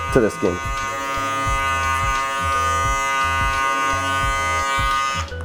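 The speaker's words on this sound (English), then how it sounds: "And then we just shave it off with our electric shaver" After a brief voice, a close electric shaver trimming a beard drones in one continuous, even buzz before cutting off near the end.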